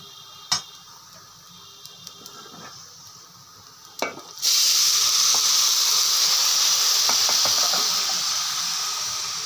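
Liquid hits a hot pan of ghee- and oil-fried rice and lentils with a sudden loud hiss that settles into a strong, steady sizzle, after a few clinks of a utensil against the pan.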